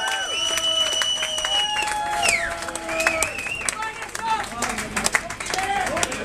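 A street crowd in Camden, London claps and cheers in a dense, close burst of applause, with whistles and shouts scattered through it. Voices keep talking and calling out over the clapping the whole time.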